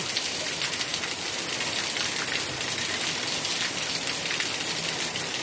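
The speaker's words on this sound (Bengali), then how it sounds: "ভালো লাগে বৃষ্টি?" Steady rain pours down outdoors during a flood, a dense, even hiss of drops striking surfaces throughout with no pauses and no voices.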